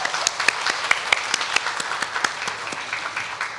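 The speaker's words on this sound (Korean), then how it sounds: "우리 한번 장년부 경찰팀의 힘찬 격려의 박수 한번 부탁드리겠습니다." A church congregation gives an encouraging round of applause for the adult department's police team, with many hands clapping and sharp individual claps standing out in a loosely rhythmic pattern, gradually softening toward the end.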